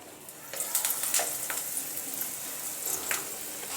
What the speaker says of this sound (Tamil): நம்ம இதை எடுத்து எண்ணெயில் வச்சிடலாம்.